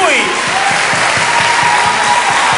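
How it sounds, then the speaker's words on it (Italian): Studio audience applause on an Italian Sunday television variety show, a dense, steady wash of clapping that fills the room at close range for the whole stretch. "Vogliamo fare un applauso soltanto a lui, a questo ragazzo che veramente ci è rimasto male."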